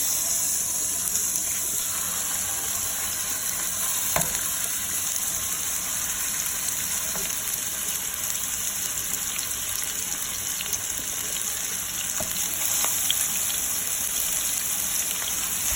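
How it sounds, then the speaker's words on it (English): Beef ribs seared in a pan give a continuous hiss and sizzle, a dense even crackle that sounds almost like running water and holds steady throughout, with no voices. "I want to make sure that I place them properly where they can sear on all of the"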